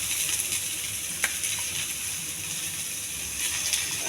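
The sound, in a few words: cashews, onions and curry leaves frying in ghee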